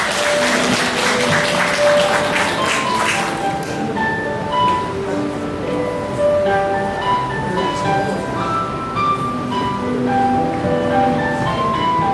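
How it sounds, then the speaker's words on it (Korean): Guests at a wedding ceremony in a convention hall clap to welcome the father, a short burst of applause that fades after a few seconds into soft tonal music carrying on alone. "큰 박수로 우리 아버님을 모시겠습니다."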